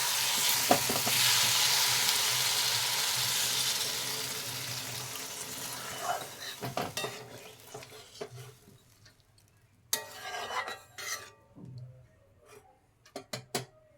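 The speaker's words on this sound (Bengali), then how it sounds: "এবার আমি পরিমাণ মতন জল দিয়ে দেবো" Water poured onto potatoes and cumin frying in oil for a lady finger fish curry: a loud hissing sizzle and bubbling that burst up at once, then fade into softer crackles, spoon scrapes and clinks against the pan.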